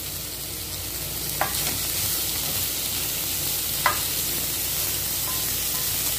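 Ground fish being stirred into masala in a pan for fish puffs, a steady dense frying hiss with two brief spoon clicks against the pan, close up and with no talking.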